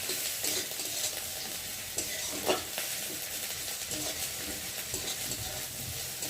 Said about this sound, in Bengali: পেঁয়াজের সাথে রসুনটা বেশ ভালো করে ভেজে নেব